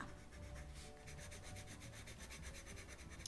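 Steady, soft scratchy rubbing of a coloured pencil shading across paper, continuous strokes with a light rhythmic texture, close and quiet.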